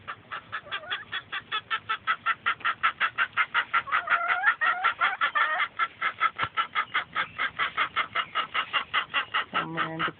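Flock of chickens at a farm and education center, some pecking at grass and others eating from a pan, clucking in a steady rapid rhythm of close, fairly loud calls with overlapping busier bursts midway and a lower call near the end.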